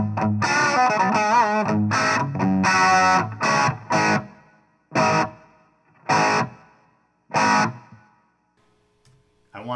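An electric guitar plays crunchy, distorted chords through a Line 6 HX Effects unit on a dirty crunch channel, first a run of strummed chords, then single stabs separated by short silences, loud and close.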